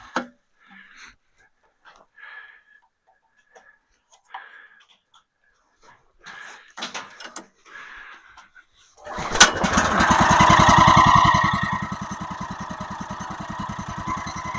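Gas engine of a backwoods hobby sawmill, running with no blade fitted and the choke off. It bursts into a loud, close roar partway through, then settles into a steady running drone. Before it starts there are quiet handling noises and brief voices.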